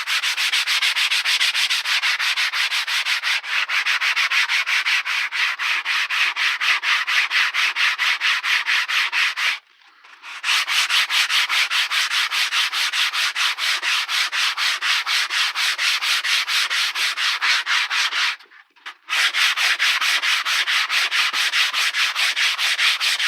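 A boffer sword is sanded with 60 to 80 grit sandpaper in steady, fast, close rubbing strokes, continuous and loud, broken by two brief pauses.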